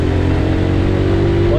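A 2021 Dash 125 motorcycle engine drones steadily while riding, heard close and loud as a continuous mid-pitched hum with wind noise and no pauses.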